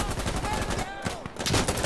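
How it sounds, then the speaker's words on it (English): Rapid gunfire in the video game Insurgency Sandstorm crackles in quick bursts, loud and close, with a brief lull in the middle before more shots, mixed with faint game noise. "did you just shoot a teammate?"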